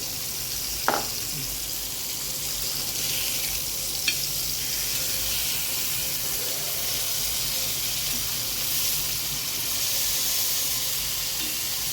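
Masvadi frying in a light spray of oil, a steady close sizzle and hiss running throughout with brief stirring clinks, no voices.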